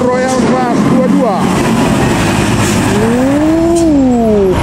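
A Makmur Royal Class bus passes in a convoy on the Medan–Pekanbaru route. Its engine rises and falls in pitch as it goes by loudly at close range, and a voice talks over the vehicle noise.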